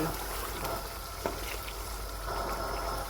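Chicken fries in a pan for pulao, a steady, soft sizzle with a constant hiss and occasional faint clicks from stirring, low in level and continuous throughout.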